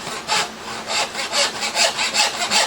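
A hand saw cuts through a wood board in steady back-and-forth strokes, about a dozen rhythmic rasping passes, close and clear with no talking.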